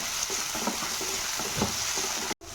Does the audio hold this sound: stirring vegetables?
yes